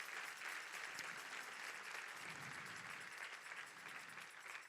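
Church congregation applauding, a dense steady wash of clapping at a faint, distant level throughout, with no speech over it.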